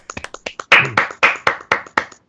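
A handful of sharp handclaps ring out close by: several quick light claps at first, then about six louder, evenly spaced claps in a steady rhythm before stopping. No cheering voices are evident.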